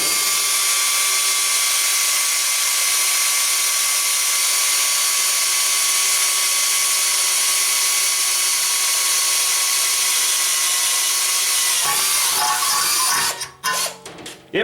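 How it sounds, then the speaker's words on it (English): A Bosch DDB181 compact 18V cordless drill whines at a steady high pitch for a long stretch, then bites and stutters as it breaks through, ending in rough, uneven bursts. "I'm going to drill another hole next to it."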